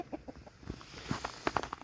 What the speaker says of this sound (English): And the chickens are fighting over there.